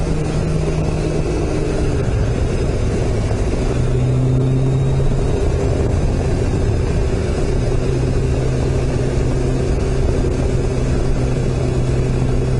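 A Kawasaki ZG1000 motorcycle engine, running on Seafoam additive, drones steadily close by for the whole stretch during a rainy night ride, with a low rumble that rises and falls slightly; no voices.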